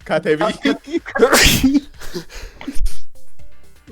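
A single loud, sharp sneeze bursts out close by, with people talking just before and after it.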